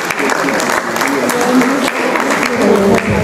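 A church congregation applauds and cheers loudly as a woman comes forward to give her testimony, with dense, continuous clapping throughout and a voice speaking over it.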